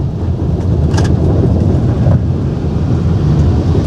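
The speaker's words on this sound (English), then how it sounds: "that's what happens when you get thunderstorms in the desert" Desert thunderstorm heard as a steady, loud rumbling wash of rain and wind noise, with low thunder-like roar throughout and no voices.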